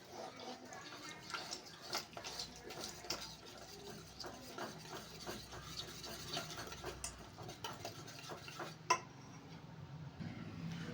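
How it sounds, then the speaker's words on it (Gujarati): Semolina batter being stirred with sour buttermilk for mixed vegetable dhokla, a spoon clinking and scraping against a bowl in a steady stream of close, light kitchen clatter. "આપણે આમાં એક કપ જેટલી ખાટી છાશ એડ કરીશું અને તેને આપણે સરખી રીતે હલાવી લઈશું"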